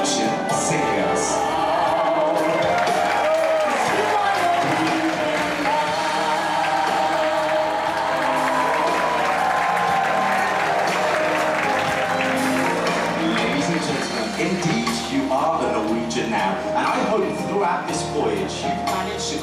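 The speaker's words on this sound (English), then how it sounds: "please give them a huge round of applause" A large audience on board a cruise ship applauds the production singers, a dense, sustained wash of clapping that fills the space from start to end, with some cheering mixed in.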